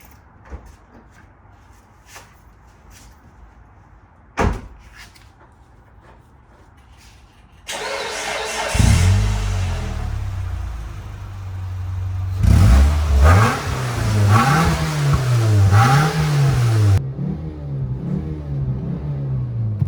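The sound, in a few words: 2006 Mitsubishi Lancer engine starting and revving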